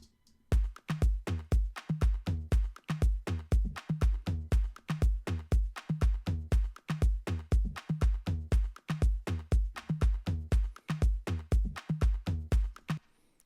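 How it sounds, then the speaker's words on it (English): Afro House drum track programmed in Logic Pro X, a tight, steady groove of punchy kicks and crisp percussion hits repeating in a driving rhythm throughout, heard alone without voices. "So this is the drums."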